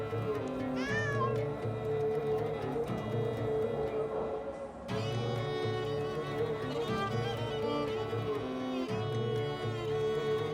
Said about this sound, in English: I don't like how that cat's looking at me.